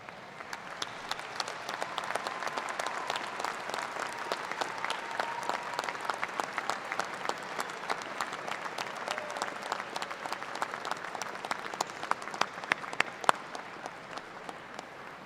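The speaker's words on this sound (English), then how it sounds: "offer them a round of hearty applause" Graduates at a 2017 undergraduate commencement applaud their families: a long run of scattered, individually distinct claps from a large seated crowd, fairly even in level and heard without speech.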